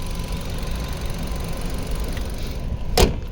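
A 2023 Maruti Suzuki Vitara Brezza ZXi with a 1.5 petrol engine idles with a steady, even hum. A single sharp knock or thump cuts in just before the end.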